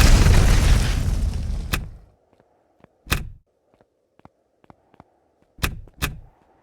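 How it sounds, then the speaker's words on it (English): Explosions in Empyrion Galactic Survival: a long roaring blast that fades out, then several sharp, loud booms and pops with short gaps between them, over faint background hum. "with that one exploding and whatnot"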